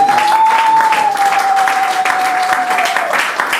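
A church congregation applauds during a French-language sermon, with dense sustained clapping and cheering filling the room, loud and continuous, with a steady tone running beneath it.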